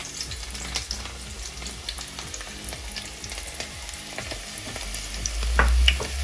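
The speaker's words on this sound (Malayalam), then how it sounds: "വെളുത്തുള്ളി നന്നായിട്ട് മൂത്ത് വരണം." Garlic frying in hot oil in a pan, a steady low crackling sizzle with faint spattering pops throughout, quiet and close, swelling slightly toward the end with a low bump.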